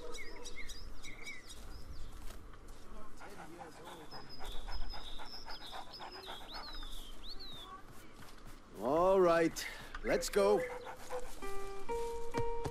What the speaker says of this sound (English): That's one big dog